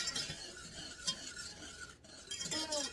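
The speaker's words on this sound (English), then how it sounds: "we're going to take our handy dandy whisk, and we are just going to stir that until" A whisk stirring a mixture in a pot until it dissolves, giving steady close scraping and swishing strokes with light metallic clinks in a quiet kitchen.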